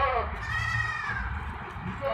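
A goat bleats in a long, wavering call at a busy goat market in Shah Latif Town, Malir, Karachi, with a steady crowd murmur and some speech beneath it.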